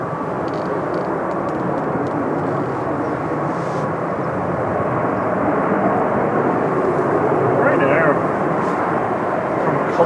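A Boeing 737 Max 8 rolls out at windy Manchester Airport, a steady broad engine roar with wind noise throughout, swelling slightly louder toward the end, while a voice talks over it.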